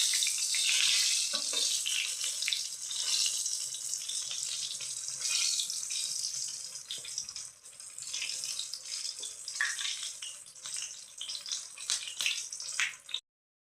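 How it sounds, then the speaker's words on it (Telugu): Corn cheese samosas deep-frying in hot oil, a steady bright sizzling hiss close up that rises and falls slightly before cutting off. "ఇలా గోల్డెన్ బ్రౌన్ కలర్ వచ్చేదాకా ఫ్రై చేసుకోవాలి"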